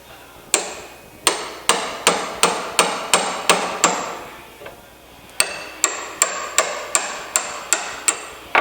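Repeated hard hammer blows drive a worn, crumbling poly bushing out of an Alfa Romeo suspension part, falling in two fast, loud, evenly spaced runs of metallic strikes with a short pause between them.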